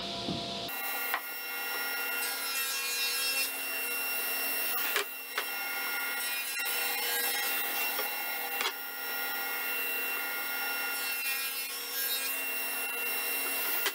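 A table saw runs steadily while ripping plywood during a pallet-building job, a continuous loud whine and rasp of blade through wood with a few brief dips and surges in the cut, no talking.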